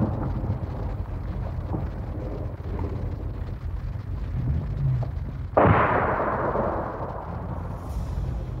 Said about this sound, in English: There goes a small arms fire on the Jeep as it goes into the village.